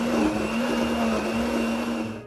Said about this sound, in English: And then I'm gonna add all of this into the blender.